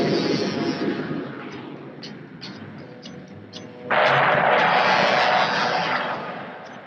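A-4 Skyhawk jet aircraft launching for a combined military exercise, a loud steady engine roar that swells abruptly midway into a harsher blast before slowly easing off.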